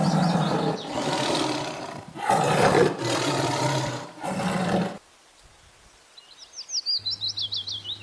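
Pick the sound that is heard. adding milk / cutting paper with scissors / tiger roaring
tiger roaring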